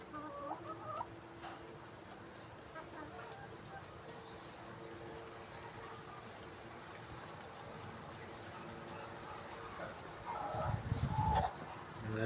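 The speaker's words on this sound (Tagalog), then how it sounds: "Ayan mga kamanok." Organic chickens cluck and call at a farm, a steady run of bird sounds with a louder burst near the end and people talking in the background.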